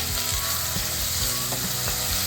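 A garlic and coriander paste fries in a pan for patwadi rassa, a loud, continuous close sizzle with rhythmic scraping strokes of a spatula layered on top.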